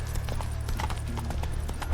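Horse hooves clop in a quick, even rhythm as a mount trots in the video game The Witcher 3, with a low droning backdrop under the steps.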